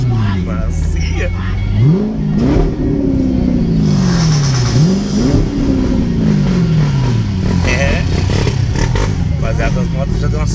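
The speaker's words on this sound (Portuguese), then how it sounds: "as motos já deu um acelero" Motorcycles rev repeatedly at a carnival street gathering, with two rising engine sweeps over steady crowd noise and continuous talking nearby.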